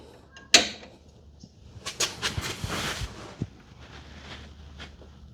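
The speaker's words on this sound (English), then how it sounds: "I'm gonna use a breaker bar" A sharp metallic crack as a breaker bar breaks loose a shock bolt on a Nissan Armada, followed by a cluster of ratcheting, grinding clanks and a final knock, close and fairly quiet.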